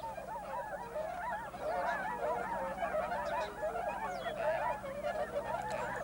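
A flock of swans honks close by in a rapid, overlapping chorus of calls, with steady moderate-level calling throughout and no talking.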